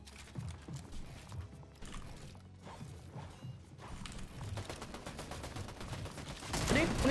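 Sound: weapon reloading in the video game Fortnite

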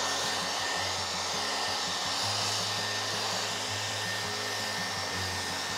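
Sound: hair dryer drying painted letter layer

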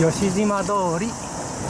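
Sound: cicadas singing on a summer evening street

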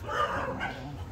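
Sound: dogs at a dog temple in Arambol, Goa

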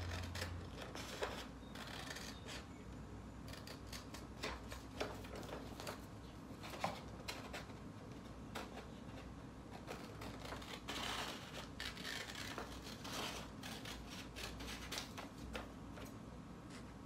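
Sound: scissors cutting fleece fabric pillow template

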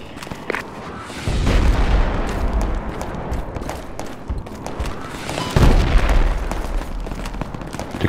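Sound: gunfire and artillery in a video game

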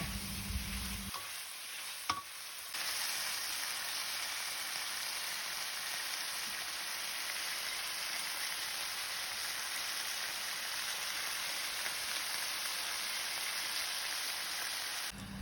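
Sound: stir-frying red curry paste in a pan

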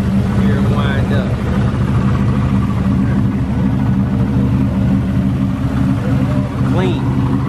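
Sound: turbocharged 1967 Chevelle engine winding up

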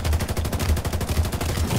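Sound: turret gunfire in a video game

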